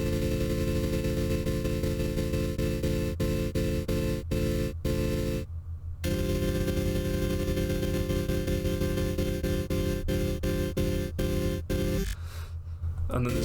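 The Vital software synth plays its Random Amp Growl patch with added modulation: a thick, buzzy sustained chord pulsed by rhythmic stabs, briefly cut by two short noisy breaks where the chord changes.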